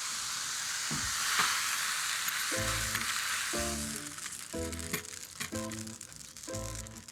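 Shallots sizzle and crackle in a hot pan, a steady bright hiss broken by intermittent clinks and stirring rattles, close and fairly quiet.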